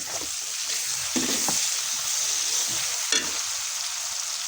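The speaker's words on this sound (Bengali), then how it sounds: "আমি এখন একটু আদা রসুন কুচা দিলাম" Steady sizzling of chopped ginger and garlic frying with onions and chilies in a hot pan, with occasional scraping stirs and clatters cutting through the hiss.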